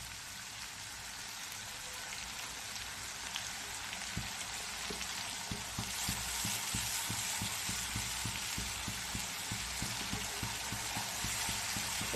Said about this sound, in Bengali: এটা একটু ভাজা ভাজা হবে,